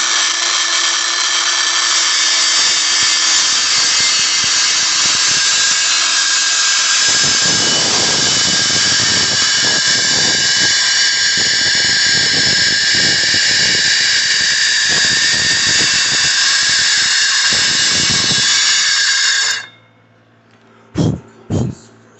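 A power saw cuts through wood for a bathroom vanity base, a loud steady high whine running for about twenty seconds with rougher cutting texture in the middle, then stopping, followed by a couple of short knocks.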